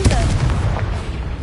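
Confringo spell blast in Hogwarts Legacy: a close, heavy boom with rumbling low end, loud and sustained across a brief burst, with a voice tangled into it.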